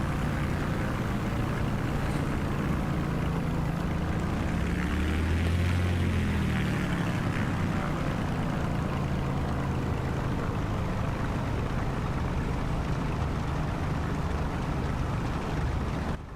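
A small propeller plane from Microsoft Flight Simulator 2024 drones with a loud, steady engine hum throughout, its pitch swelling briefly partway through, with no voices.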